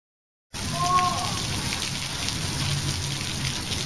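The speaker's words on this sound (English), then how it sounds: "This year it's raining." Steady rain falling in the Ozarks, a dense even hiss that starts abruptly and continues close and unbroken, with a brief tonal chirp near the start.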